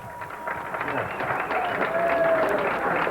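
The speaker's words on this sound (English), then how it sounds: "Give it up and a round of applause" A comedy club audience in Knoxville applauds with a steady patter of clapping, mixed with crowd murmur and a few voices, at a moderate, sustained level.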